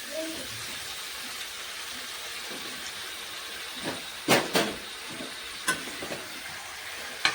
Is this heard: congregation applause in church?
no